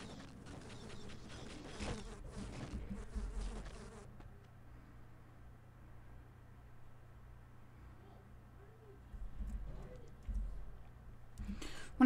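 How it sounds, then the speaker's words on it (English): Bees buzzing in the video game Half-Life, a low droning hum that persists quietly under intermittent game sounds, with louder mechanical noises at the start and end. "My bees may help wherever they're needed."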